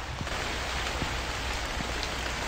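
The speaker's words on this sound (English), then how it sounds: "The rain is so loud! It's like heavy rain!" Heavy rain pours steadily in the horror video game The Convenience Store, a loud, even hiss with scattered droplet taps and no voices over it.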